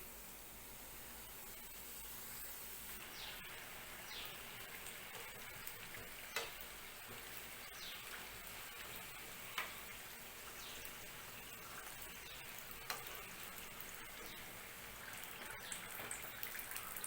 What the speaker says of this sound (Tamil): எண்ணெய் காஞ்சிருச்சுங்க. இப்போ நம்ம செஞ்சு வச்ச சமோசாவை போட்டுடலாம்.